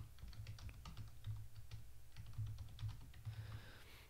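Someone types a password on a computer keyboard, with quick, uneven keystrokes tapping close by at low volume and no speech.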